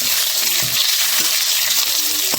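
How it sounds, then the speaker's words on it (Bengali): Chopped onions sizzle and crackle loudly in hot oil over a wood fire for a country-style pork curry, with occasional stirring scrapes and no talking. "ভালো করে একটু ব্রাউন কালারের করে ভেজে নিতে হবে"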